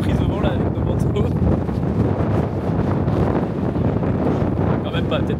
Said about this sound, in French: on est sur des bonnes bourrasques là quand même